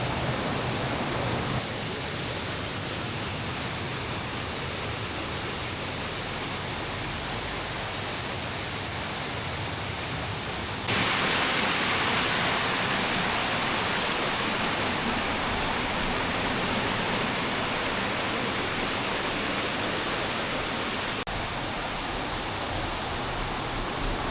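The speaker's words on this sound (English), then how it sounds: "the river, via a weir, enters a beautiful mill pond" River water spilling over a weir into a mill pond near Waverley Abbey in England, a constant hissing rush that swells louder partway through and stays steady without talk.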